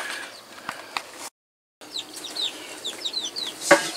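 Clucking from a laying hen on a small farm, a few soft clucks and chirps scattered through the clip, with a sharper call near the end against quiet background noise.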